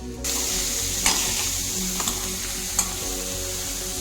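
Bitter gourd frying in oil in a pan gives a steady close sizzle, even and moderately loud throughout, broken by a few faint clicks, with no voices.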